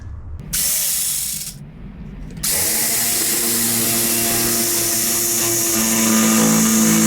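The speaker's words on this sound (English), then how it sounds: "so I'm using the jigsaw now" A jigsaw cuts through plywood around an electrical box during cabin room building, a loud close whining buzz that starts in short bursts, then runs continuously and steadily to the end.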